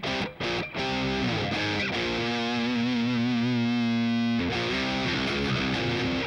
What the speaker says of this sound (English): I just have a simple analog delay going on here, and we'll turn it on